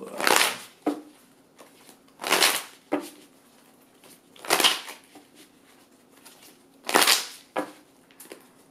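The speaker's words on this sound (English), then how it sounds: "All right, gonna shuffle." Tarot cards are shuffled close up in a series of crisp riffling bursts, each a quick flutter of paper, with softer taps and slides in between.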